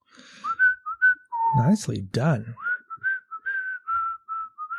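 A person whistles the Muppets theme tune: a bright, clear melody of short rising notes and sliding pitches, close and fairly loud, with a brief spoken remark in the middle.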